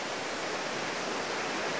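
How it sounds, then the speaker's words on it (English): A mountain stream, Hazel Creek, rushes on a hiking trail, a loud, steady broadband wash of flowing water heard up close, with nothing else over it. "I just crossed this stream, which I think is Hazel Creek"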